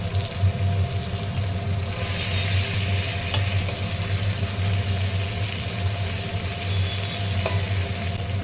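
Steady loud sizzling of bhetki fish frying in hot oil, jumping in intensity partway through, with a constant low hum underneath and no voices.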